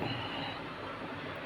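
A train on the Sindhanur to Yesvantpur route in Karnataka rumbles along the rails through hilly country, a continuous loud roar of wheels and carriages with faint metallic squeal.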